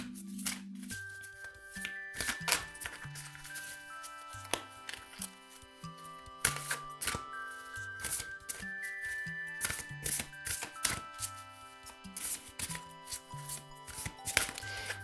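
Oracle cards are shuffled by hand in repeated soft riffling and rubbing bursts, close and fairly quiet over gentle background music, with no speech.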